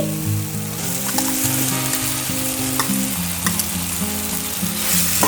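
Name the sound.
fried potatoes added and stirred into frying spice masala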